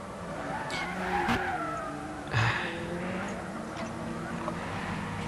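GT race cars at Suzuka in a racing video game's endurance race, engines droning steadily with a couple of sharp tire skids, while commentators talk faintly underneath.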